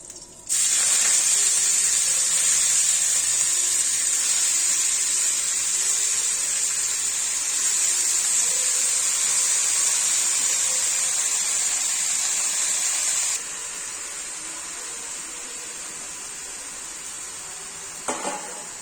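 Beto greens dropped into hot oil set off a loud, steady sizzle that roars on for about thirteen seconds, then drops to a slightly softer hiss and fades toward the end; nobody talks.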